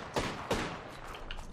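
Bursts of gunfire from the video game Apex Legends, including a Spitfire light machine gun, with two sharp, loud volleys early on followed by fainter distant shots, and no talk over them.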